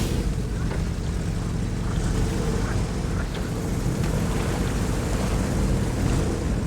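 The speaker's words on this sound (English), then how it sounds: "I love the sound of the engine in this thing too." Truck engine in the video game SnowRunner, a loud continuous low rumble with a rough, noisy texture that holds steady throughout, heard alone without talk.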